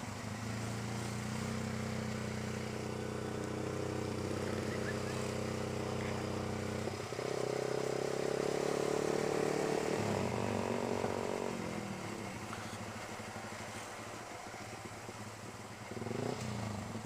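Motorcycle engine on a winding road through extreme bends in South Aceh, Indonesia, a loud steady drone that shifts pitch as the rider changes gear and throttle, dipping and rising again near the end.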